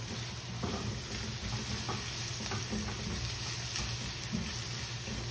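Sliced onion frying in a little oil in a pan, with a steady sizzle and occasional stirring scrapes throughout, close and moderately loud, no talking.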